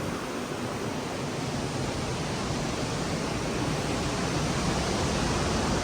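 A fast mountain river rushes along the road from Harsil to Gangotri, a loud, steady, dense roar of churning water that stays even and unbroken throughout, heard close with no voices over it.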